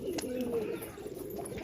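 Pigeons coo softly in low, warbling phrases at close range, with a faint murmur of background noise and a few light clicks.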